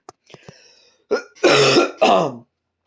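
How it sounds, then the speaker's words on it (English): Two loud, harsh bursts of coughing or throat clearing, close up, following a few small quieter sounds. "My cough has been like this for like 2 days so far."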